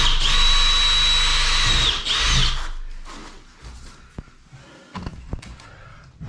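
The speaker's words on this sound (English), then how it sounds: "then drill through the centre" A power drill whines loudly for about two seconds while boring through a plastic strap boss on a waste pipe during second-fix plumbing in a barn conversion, then stops, followed by scattered knocks and handling clatter.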